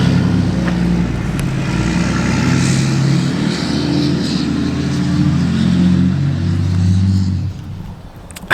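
A diesel Mega Cab pickup truck engine revs and rumbles loudly nearby, throbbing steadily before easing off toward the end.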